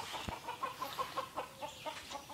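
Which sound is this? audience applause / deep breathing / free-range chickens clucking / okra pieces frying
free-range chickens clucking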